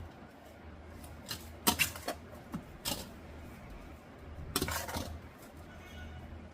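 Mango pulihora rice being mixed in a metal vessel: faint, irregular clinks and scrapes, clustered in a few short bursts over a quiet background.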